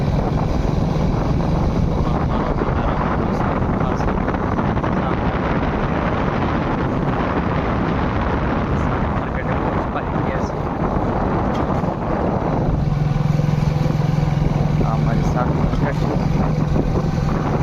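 A continuous motorcycle engine rumble mixed with heavy wind buffeting while riding along a road on a cloudy day; the drone deepens and steadies near the end.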